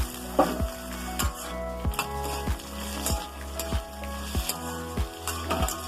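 Grated ginger sizzles in a hot frying pan with green beans and potatoes as a spoon stirs, scraping and clinking against the pan in a regular rhythm over constant frying hiss.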